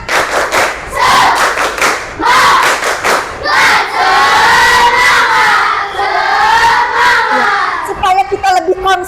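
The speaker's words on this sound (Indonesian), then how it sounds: "Tepuk semangat." Sixth-grade class in a Pancasila lesson performing the tepuk semangat chant, loud rhythmic claps mixed with children's shouted chanting voices, steady and energetic throughout.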